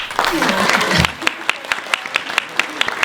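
An audience at a community session on youth and mental health applauds loudly for about a second, then the clapping thins to a few scattered, sharp individual claps spaced apart.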